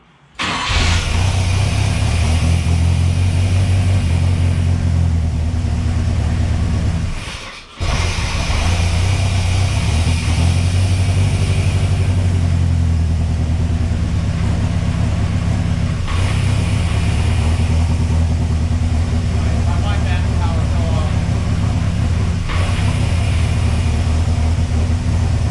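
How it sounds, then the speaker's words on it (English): A turbocharged 3.0L Mercruiser boat engine swapped into a Chevrolet S10 fires up and settles into a steady, loud idle that runs throughout, with only a short dip early on and no talking. "it should fire up and idle now, hopefully"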